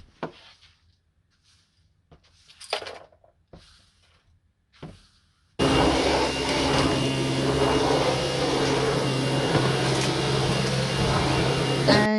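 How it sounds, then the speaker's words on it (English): A vacuum cleaner hoovers a kitchen floor: after several seconds of quiet, scattered handling noises, a loud, steady motor drone kicks in abruptly and runs without pause to the end. "I'm going to just sweep the floor and then hoover it up."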